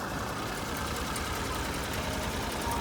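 A tractor engine rumbles steadily and fairly close by during hay bale harvesting, a constant low drone with a slightly knocking texture and no talk.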